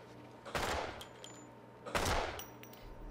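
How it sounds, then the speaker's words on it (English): Bursts of gunfire in the Metal Gear Solid V video game: two loud volleys about a second and a half apart, each fading into a noisy tail, with no talk over them. "He's gonna shoot us!"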